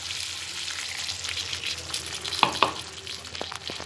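Spice masala cooking in a pan with a little water added, a soft continuous sizzle and bubbling with a couple of sharp utensil clinks near the end.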